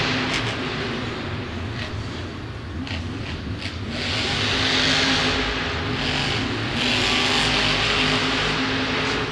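A monster truck engine roars at full throttle in a Monster Jam stadium show, loud and sustained with a rising swell midway, rough and broadband with no talking over it.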